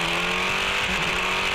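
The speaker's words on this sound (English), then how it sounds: "Quick to get the car refired though" A race car's engine refiring after a stall at a standing start, a steady loud mechanical drone with tire noise, close and continuous, no talk.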